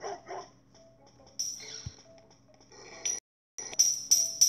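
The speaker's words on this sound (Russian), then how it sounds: "Понятно, будет бегать за мной собака." Repeated short barks and yips from a dog in the mobile stealth game Robbery Bob 2, close and clear over sparse game sound effects and chimes.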